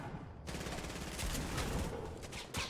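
Rapid gunfire from a Fortnite duo match rattles through almost the whole stretch, a dense fusillade of shots at steady, fairly loud level with no talk over it.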